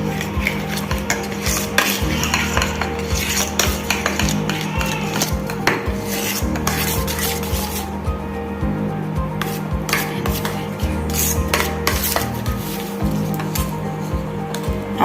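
A warm jelly mixture with red fruit colour is stirred in a pot, producing steady rhythmic scraping and rubbing strokes of a spoon against the pan, close and continuous with no talk.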